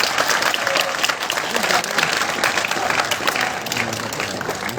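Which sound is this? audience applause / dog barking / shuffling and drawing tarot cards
audience applause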